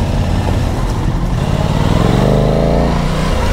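An Aprilia Tuono 660 motorcycle engine revs and accelerates close by, its pitch climbing steadily over a constant rumble.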